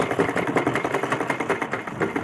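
A butterfly sewing machine with a loose feed regulator stitching forward, its needle mechanism chattering in a steady rapid rhythm, close and fairly loud with no talk.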